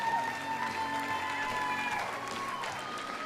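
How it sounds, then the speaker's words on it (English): Fans and players clapping at a women's under-20 international rugby match at Twin Elm Rugby Park, a steady wash of applause from a crowd at a distance, with a commentator talking over it. "The Canadians applauding the fans here"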